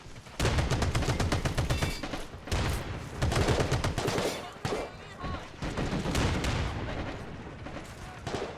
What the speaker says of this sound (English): that 50 cal just blew them back